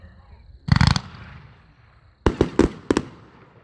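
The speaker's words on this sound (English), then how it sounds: "Seven-shot Pink Lemon Aqua Burst with all the silver glitter tails." Seven-shot aqua burst fireworks with silver glitter tails go off as loud, sharp booms. One crackling burst comes first, and a quick run of three or four reports follows after a short pause.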